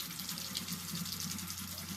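Cold water runs from a tap into a sink in a steady, continuous hiss and splash at close range with no talking.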